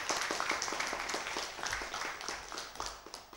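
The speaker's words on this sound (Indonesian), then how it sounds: "Boleh tepuk tangan." An audience claps at an event for Tasikmalaya mayoral candidates, a spread of sharp separate hand claps that start moderately loud and thin out toward the end.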